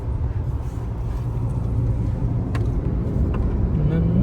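Car driving along the highway between Kota and Udupi on a long road trip from Hubballi to Mangaluru, a steady in-cabin engine and road rumble, continuous and close, with a few faint clicks over it.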